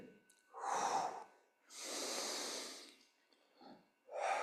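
Slow, deep breaths during a breathing exercise: several long, close inhales and exhales with soft airy hissing, separated by short pauses.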